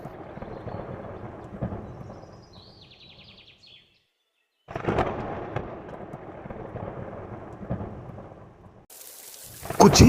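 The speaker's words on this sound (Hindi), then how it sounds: "बिजली जोर जोर से कड़कने लगी" Rolling thunder with heavy rain in a storm sound effect, a long rumbling roar that drops to near silence, returns strongly, then ends in a sharp bright crack, with no voices.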